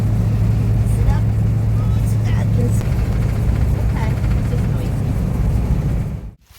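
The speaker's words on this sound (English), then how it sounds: "First ride in the van." An old, mold-affected van on its first test drive gives a steady, loud engine and road rumble from inside the cab, with people talking over it, before the sound cuts off abruptly near the end.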